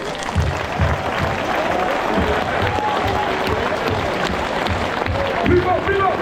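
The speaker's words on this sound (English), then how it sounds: "Les applaudissements s'il vous plaît." A large crowd applauds at the start of the 177 km UTMB Ultra Trail du Mont Blanc 2024, a steady, dense wash of clapping with low thumps and a voice over loudspeakers underneath.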